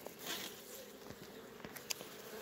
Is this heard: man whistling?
no